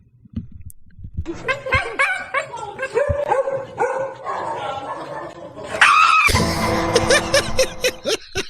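A dog barks, yips and whines in a played video clip, sounding close and repeated in uneven bursts. Talk and other sounds mix in throughout.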